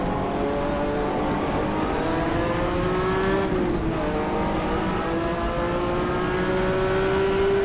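Race car engines in GTR2 at 1965 Daytona, including a Porsche, roar loudly and continuously with strong harmonic drone, a brief pitch dip mid-run from a gear change, then a steady rising rev.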